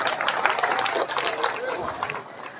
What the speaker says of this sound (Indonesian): Iya, tepuk tangan dulu.